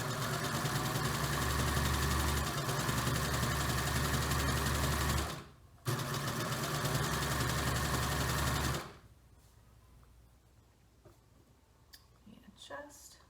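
A serger stitches a curve on a French terry hoodie, its steady fast mechanical whir running loud and close for several seconds, stopping briefly, resuming, then cutting off into quiet handling noises.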